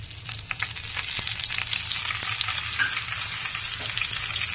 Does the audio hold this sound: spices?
yes